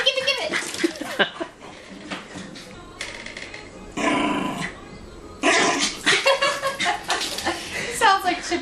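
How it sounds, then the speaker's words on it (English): An excited dog barks, yelps and whimpers over a new toy, with bursts of close, eager vocal sounds mixed in with people talking and laughing. "he's just a happy dog when he gets something new"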